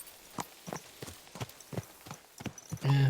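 Horse hooves clip-clop in a steady walking rhythm on the ground in Kingdom Come Deliverance 2, about seven or eight distinct close footfalls, ending with a brief louder snort or whinny-like sound, with no talking.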